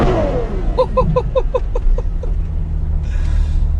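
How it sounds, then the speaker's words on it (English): A Ferrari 812 engine blips down through every gear while braking in a quick series of evenly spaced pops and revs, fading into a low idle rumble. "if you just hold the downshift, it drops down every gear basically as soon as it can while you're braking"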